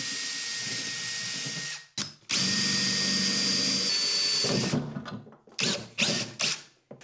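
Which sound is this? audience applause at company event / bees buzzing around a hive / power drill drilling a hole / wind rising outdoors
power drill drilling a hole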